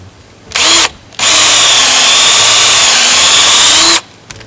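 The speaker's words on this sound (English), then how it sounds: "we want to drill in the tree maybe an inch and a half" A loud power drill whirs briefly, stops, then runs steadily for about three seconds as it bores into a maple tree trunk for sap tapping before cutting off.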